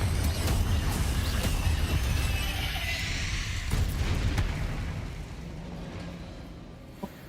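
Confringo explosive spell in the Hogwarts Legacy video game sets off a heavy, rumbling blast that roars for several seconds, then slowly fades to a quiet tail with a small click near the end.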